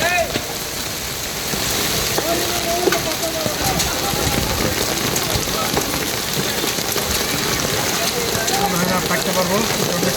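A heavy hailstorm pours down in Dhaka, Bangladesh, a dense, constant roar of rain and hail pelting the surfaces close by, with someone talking over it throughout.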